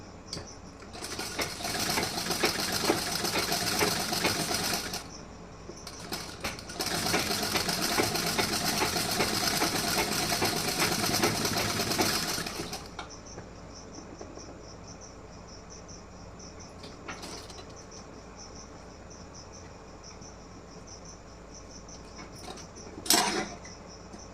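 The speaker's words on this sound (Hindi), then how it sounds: "यहाँ पे मैं ऐसे सिलाई लगा रही हूँ।" A sewing machine stitching a blouse, running in two steady bursts of a few seconds each, fairly close and alone. Its machine has a fault that keeps breaking the thread, and quiet pauses and small clicks follow.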